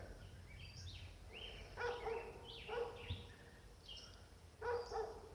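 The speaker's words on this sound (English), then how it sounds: "Oh, that dog." Outdoors, a neighbour's dog barks faintly in the distance: a few short, separate barks spread across a quiet background with no talking.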